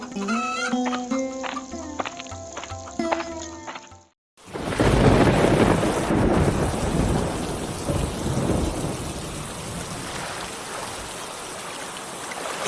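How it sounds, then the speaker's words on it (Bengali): Cartoon thunderstorm in a Bengali animated story, a loud thunder crash breaking in after a clucking rooster and chickens, then heavy rain roaring steadily and fading slightly. "এই রে, ঝড় বুঝে এবার বেড়েই চললো, এখন আর নৌকা বাইতে পারবো না।"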